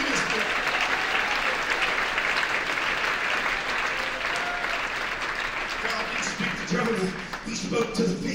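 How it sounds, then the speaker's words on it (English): Church congregation clapping their hands at a convention service, dense sustained applause filling the room while a preacher's voice carries on over it. "You need to clap your hands."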